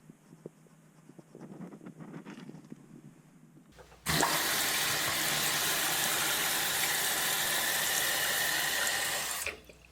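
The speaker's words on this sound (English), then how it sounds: "we'll turn the water on and we'll make a fine adjustment with this knob right here" A toilet tank refills after its fill valve has been replaced: after a few seconds of quiet handling noises, a loud, steady rush of water starts abruptly and runs for about six seconds before cutting off.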